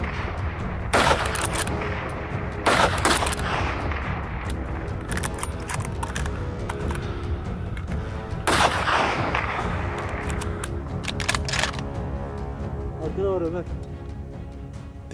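Rapid rifle shots fired across an open, windy hillside during a wild boar hunt, several sharp cracks in quick bursts with a few spaced singles, amid steady wind noise and voices talking.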